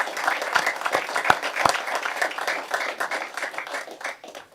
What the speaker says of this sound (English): let's give these 6 members a round of applause